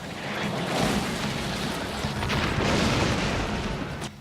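In a Street Fighter film, a dense, continuous rumble of bombs exploding across an island, loud and sustained booming with no pauses, like a heavy bombardment.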